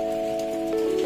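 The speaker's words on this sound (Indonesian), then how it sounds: "Tapi saat itu hujan deras" Heavy rain pours steadily as a dense, close wash of noise, loud and unbroken, with a faint tone running under it.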